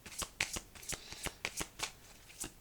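Oracle cards are shuffled by hand in a quiet room, giving a steady run of soft, close riffling slaps at a regular rhythm with no speech over them.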